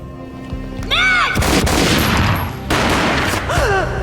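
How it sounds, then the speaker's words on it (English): Gunfire in the Max Payne video game, with loud booming shots and a dense burst of rapid fire, mixed with swooping electronic effects before and after. "A gunshot boomed and she fell down in slow motion."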